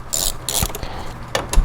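A ratchet or wrench clicks while loosening two bolts that hold the saddle of a Vevor 8x14 mini lathe onto its feed screw. There are a few short, sharp mechanical clicks close by.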